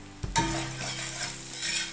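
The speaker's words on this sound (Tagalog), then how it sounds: "Tapos gigisayin natin yung bawang." Garlic hits hot butter in a pan and bursts into a loud sizzle that stays steady, with a brief stir at the start, while making Filipino-style sizzling spicy gambas.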